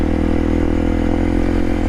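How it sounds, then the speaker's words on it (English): A dual sport motorcycle's exhaust drones loud and steady at close range throughout, a continuous low engine rumble with no talk over it. "all you would hear is this loud, obnoxious exhaust."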